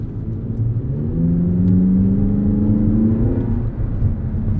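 A 2023 Chevrolet Corvette Z06 convertible driving with the top down, its engine and exhaust rising in a loud, close, steady drone with a climbing rev tone before easing off.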